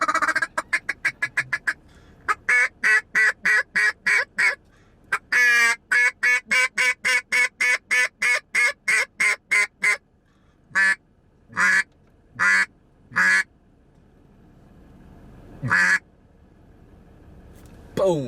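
A hand-blown duck call imitating duck quacks, up close and loud: a fast run of short quacks, then evenly spaced single quacks that thin out into a few widely separated calls.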